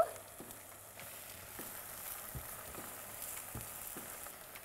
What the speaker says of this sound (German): Dann erhitze ich etwas Erdnussöl in einer Pfanne. Dann habe ich hier rote Zwiebeln, fein gewürfelt. Kommt auch mit dazu.